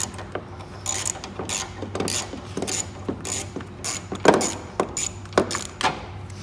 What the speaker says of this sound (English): we're going to undo the bottom bolt here